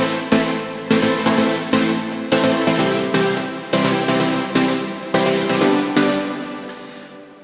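Bright, buzzy sawtooth synth chords with the filter set very high, struck in a steady rhythm, each stab ringing out and decaying before the next; ends with a fading tail.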